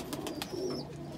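An old Ferozpuri pigeon coos close by with a soft, steady low murmur, joined by a brief thin whistle-like note and a few faint ticks, with no talk.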